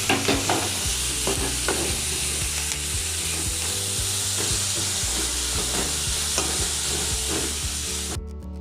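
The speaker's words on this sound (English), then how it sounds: "Don't forget to stir because otherwise it gets burned." Vegetables for a puff pastry filling fry in a pan while being stirred: a steady close sizzle broken by repeated scraping stir strokes, with no voices.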